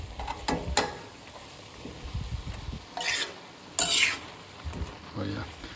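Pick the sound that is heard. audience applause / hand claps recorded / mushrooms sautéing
mushrooms sautéing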